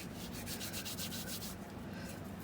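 Dried fenugreek leaves (kasturi methi) crushed between palms make a close, dry rubbing rustle in repeated quick strokes, with nothing else heard.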